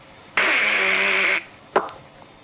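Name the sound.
mouth sound imitating a question mark, Victor Borge style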